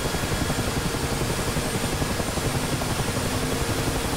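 A Mi-8 (Mi-17) helicopter during startup with its engine at full throttle gives a loud, dense, steady turbine roar and rotor throb that fills the whole clip, heard close up.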